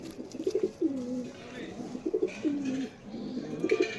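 Kalanka pigeons cooing close by in a repeated, rhythmic series of low, throaty calls, with soft rustling between coos and no talk.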